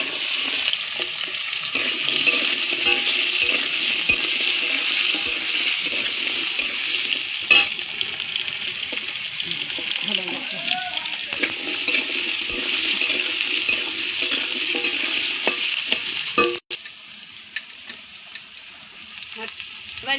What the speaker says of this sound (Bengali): তার জন্যে আগে আলু ভেজে নেব